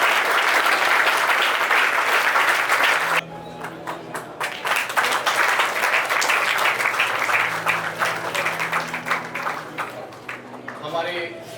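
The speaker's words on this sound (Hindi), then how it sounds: "एक बार जोरदार तालियां।" Loud audience applause fills a Harela folk-festival ceremony at Doon Defense Academy in Uttarakhand, dense clapping that dips briefly, then swells again with voices murmuring underneath.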